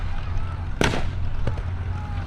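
Simulated artillery rounds burst at a WW2 battle reenactment around a village, one sharp loud blast followed by a smaller second pop over steady low rumble and crowd noise.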